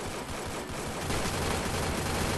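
Gunfire in the Free Fire battle royale game, a loud continuous crackle of bursts and volleys that dominates the scene without pause.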